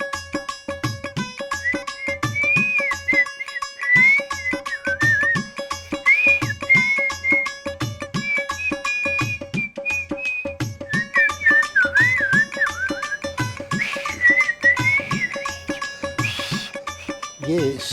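A person whistles a wavering melodic tune over steady rhythmic backing music, the whistled line carrying clearly and continuously through most of the passage.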